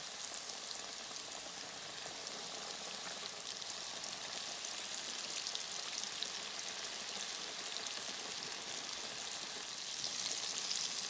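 Chicken tenders deep frying in hot oil, a dense continuous hissing sizzle with fine crackle, steady and fairly soft throughout with no talk.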